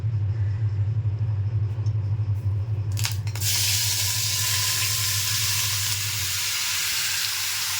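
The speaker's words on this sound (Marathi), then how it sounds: "तूप छान गरम झाले आता त्यामध्ये घालणार होते मॅरिनेट केलेले सगळे पदार्थ" Marinated ingredients hit hot ghee and burst into a loud, close, continuous sizzle over a low rumbling hum, and the hiss stays steady after the initial crackle.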